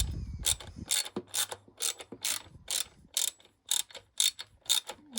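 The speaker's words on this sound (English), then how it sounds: "Literally just keep tightening." A nut on the rear wheel chain adjuster of a Honda Grom is tightened with a ratchet, producing a steady series of about a dozen close, crisp ratcheting clicks in even rhythm, with no talk.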